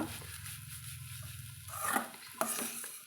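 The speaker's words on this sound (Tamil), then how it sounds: "இப்போ கலந்து விட்டுக்கலாங்க நம்ம நல்லா கலந்து விட்டுட்டு" Arai keerai (amaranth greens) poriyal with coconut stir-fried in a pan, a soft sizzle under spatula strokes that mix the greens, with a scrape and a clack against the pan near the end.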